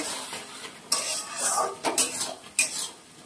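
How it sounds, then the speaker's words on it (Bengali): A ladle stirs a cooked ridge gourd and shrimp curry finished with chopped coriander, giving several close scraping and clinking strokes against the pot under a soft sizzle. "এবার একটু উপর থেকে ধনেপাতা কুচি ছড়িয়ে দেবো, একটু নেড়ে দিই।"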